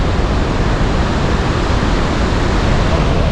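Victoria Falls in Africa roars as a loud, unbroken wash of broadband noise, with spray and mist thick in the air, and no voices over it.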